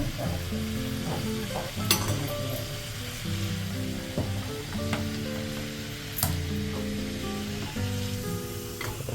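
Kombdi vade, a Maharashtrian fried bread, sizzle steadily in hot oil in a home kitchen, a dense close crackle that stays loud throughout, with sharp spatter pops now and then.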